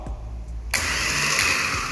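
A Powertek starter motor for a Vectra, Astra or Calibra, refitted with a new brush holder, kicks in abruptly after a short quiet lead-in. It then whirs in a loud, steady, close-up spin with its Bendix pinion turning, and nobody speaks.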